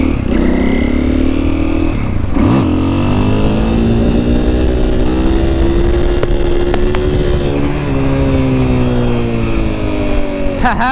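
A new KTM supermoto motorcycle rides along a street with a loud, steady engine drone that rises and falls through revs, close to the microphone, with a few sharp throttle blips near the end.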